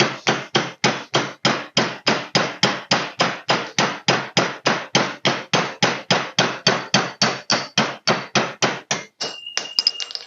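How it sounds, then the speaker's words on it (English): Steel hammer rapping the flat end of a transfer punch to free a stuck valve on a generator engine: about thirty sharp, evenly spaced metallic blows in a steady fast rhythm, close and loud, ending in a brief clatter. "Use the flat end and hammer the pointy end."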